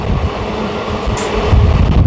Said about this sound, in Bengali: আমাদের ট্রেন ক্রস করছে পলতা স্টেশন